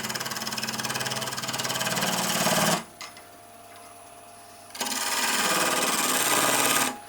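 A parting tool cuts into a spinning wooden blank on a lathe, giving a loud, steady buzzing whine that drops out for about two seconds mid-way, then returns at full strength before stopping.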